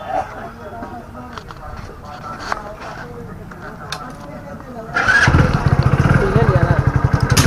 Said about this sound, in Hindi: ये हमारी मोटरसाइकिल है स्प्लेंडर प्लस BS6